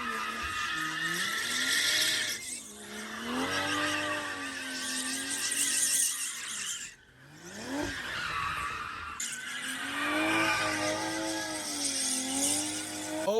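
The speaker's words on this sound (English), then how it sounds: "I'm gonna insert a burnout clip that we did when we roasted the stock 225s that were on there." A BMW M340i on its stock 225-width tires does a burnout, with a loud, sustained tire screech over a revving engine whose pitch climbs and falls in waves, briefly dropping off midway before returning.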